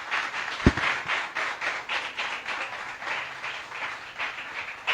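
A church congregation applauding: a fairly faint, even wash of clapping from many hands, with a single sharp knock near the start, continuing steadily throughout.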